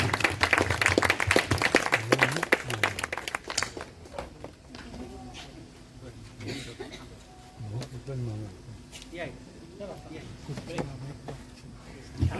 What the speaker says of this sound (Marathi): टाळ्या झाल्या पाहिजेत नक्कीच.